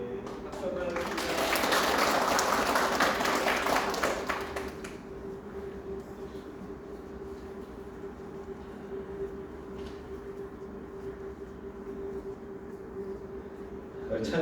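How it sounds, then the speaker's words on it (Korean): A church congregation claps together during a Sunday service, a loud dense round of clapping lasting about four seconds before dropping to quiet room tone with a steady low hum. "박수 한번 하겠습니다."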